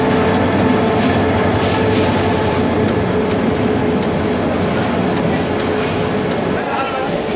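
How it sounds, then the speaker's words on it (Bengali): Jamalpur Express, a passenger train, rolls along the platform at Airport station with a loud, close rumble and rhythmic clatter of the carriages. A voice talks over it throughout. "এখন এয়ারপোর্ট স্টেশনে ঠিক আধা ঘন্টা পরে, এখন বাজে 11:00 সময় কিন্তু আমাদের ট্রেনটা এক নম্বর প্ল্যাটফর্মে এসে অলরেডি ঢুকে গেছে।"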